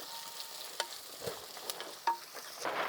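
Onions frying in a pan with slit green chillies and curry leaves give off a steady, soft sizzle with a few sharp pops and light stirring clicks, close by, with no talking.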